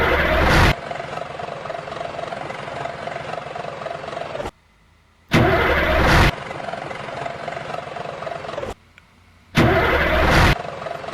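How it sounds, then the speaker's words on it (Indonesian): Car engine starter, heard as three loud cranking bursts that each roll into steady engine running, broken by short silent gaps. "Untuk sound starternya kurang lebih seperti ini cuy."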